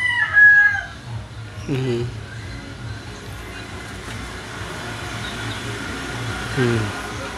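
A bantam rooster, a small breed a bit larger than a pigeon, crows once at the start, a short harmonic call rising above a steady low background hum, followed later by faint broken calls and a voice talking.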